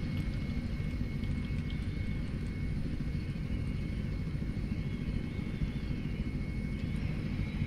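A steady, droning helicopter engine roar as it lifts off in a video game, holding constant throughout, dense and low with no pauses.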